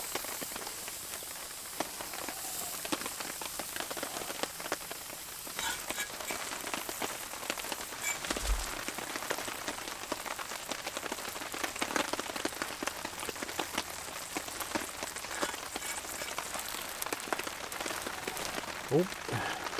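Heavy rain drums steadily on a cozy cabin roof during a bushcraft camping trip, a dense continuous patter with a few louder drips and knocks, heard alone without talk.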